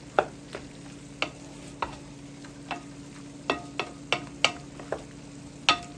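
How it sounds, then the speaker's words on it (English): Spoon stirring seasonings into a Rotel dip, with a steady series of sharp clinks and scrapes against the bowl, close and fairly loud, with no talking. "And you just want to stir it."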